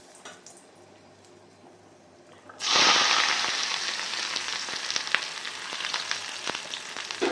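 Spice tempering hits hot oil for a fish sambar: after a quiet stretch, a sudden loud burst of sizzling and crackling erupts, then keeps spitting steadily with small pops, close up.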